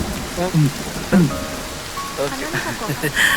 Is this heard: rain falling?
yes